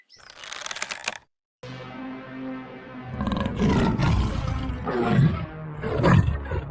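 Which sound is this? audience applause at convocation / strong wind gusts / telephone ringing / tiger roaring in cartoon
tiger roaring in cartoon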